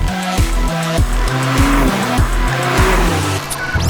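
A 2023 BMW M2 accelerating hard, its engine note climbing loud and close through rapid upshifts, each gear a rising whine cut by a brief dip, with a faint tire squeal near the end.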